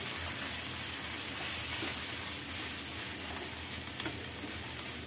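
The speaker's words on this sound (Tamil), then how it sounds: "கொத்தமல்லி, புதினா ரெண்டுத்தையும் போட்டுக்கலாம். இதையும் இப்போ நல்லா வதக்கிக்கலாம்." Mint and coriander leaves sauté in a pan with a continuous, even hiss of frying, fairly faint and broad, with a couple of small crackles and no talking.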